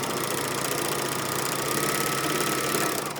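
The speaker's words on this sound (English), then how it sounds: "as your fabric is going through the machine is trimming the fabric, sewing 2 lines of stitches, and finishing the seam all at once" A Bernina L450/L460 serger runs fast, sewing and trimming fabric with a dense, rapid mechanical chatter and hum, steady and close throughout, with no voices.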